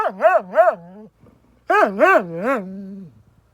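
A farm dog in frosty weather gives two bursts of whining, yelping cries, each with two or three rising and falling yips, close and fairly loud, with a short quiet gap between the bursts.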